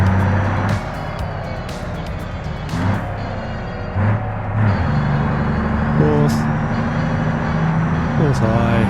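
A truck engine in BeamNG Drive with a ranged high-low gearbox revs and climbs through successive gears, steady drones stepping up in pitch between shifts, loud and close under someone talking.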